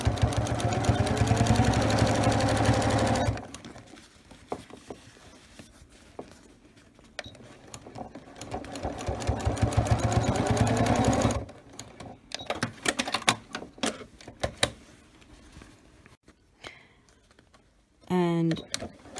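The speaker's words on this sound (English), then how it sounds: "I'm sewing it in on a straight stitch over the existing sort of stitch line I've used" A sewing machine runs in bursts, stitching elastic into the back of a thigh boot on a straight stitch, with two long steady runs and choppier stops and starts, and a person talking between them.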